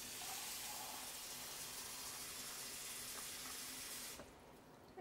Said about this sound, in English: And I'll get some hot water here.